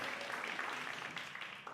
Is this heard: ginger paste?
no